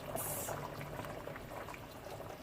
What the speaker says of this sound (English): now my oxtail is cooking the way I like it